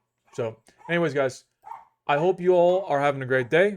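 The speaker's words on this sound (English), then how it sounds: "My dog's barking in the background" A pet dog barks and yips in the background beneath a man's close speech, the brief barks partly masked by his talking.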